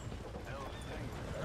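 Horse hooves clip-clopping in the Red Dead Redemption 2 video game, a steady quiet hoofbeat rhythm with game ambience and a faint voice talking over it.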